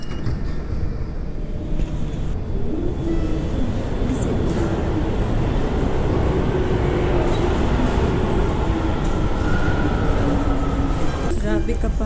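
A train rumbles continuously and loudly from close by, with rolling wheel noise and a faint squeal toward the end.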